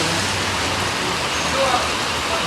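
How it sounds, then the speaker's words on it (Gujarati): A heavy monsoon downpour at a roadside crossing pours as a dense, loud, steady hiss of rain on surfaces, with a faint voice underneath. "બહુ વધારે વરસાદ ચાલુ થયો છે"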